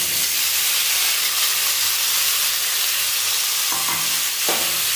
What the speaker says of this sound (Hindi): अब इसके बाद इसमें मैं कोहड़ा को डाल दे रही हूँ